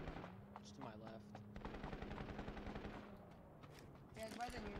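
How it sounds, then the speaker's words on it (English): Rapid bursts of gunfire crackle at a distance, steady and repeated, with a low mechanical drone and some voices underneath. "I'm hearing a lot of gunshots."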